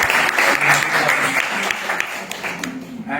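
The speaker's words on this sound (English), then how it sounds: "So let's give a big round of applause." Applause at a PU college farewell for second-year students, a crowd clapping steadily and fairly close, tapering slightly near the end with a few voices underneath.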